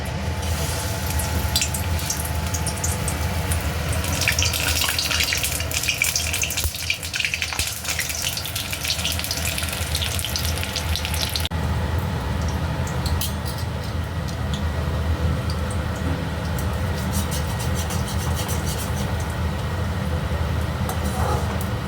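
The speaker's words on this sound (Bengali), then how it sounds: "গরম তেল অ্যাড করে দিলাম আর আমি এটা ব্যাটারটায় চুবিয়ে তেলে ছেড়ে দেবো" Battered pumpkin flower pakoras frying in hot oil give a loud, continuous sizzle that hisses steadily throughout and shifts in tone partway, with no talking.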